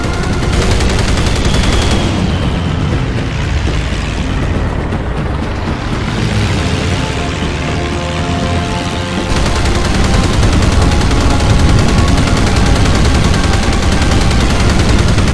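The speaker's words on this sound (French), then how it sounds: "Ces nouveaux canons sont très impressionnants" Naval cannons and rapid gunfire in Battlestations Pacific during the Battle of the Santa Cruz Islands: a dense, continuous barrage of booming shots and crackling automatic fire, loud and sustained, with a brief dip midway before surging again.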